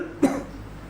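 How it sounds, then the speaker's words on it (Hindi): A single short, sharp cough, close by, followed by quiet room tone. "खांसी चाल गई भाई"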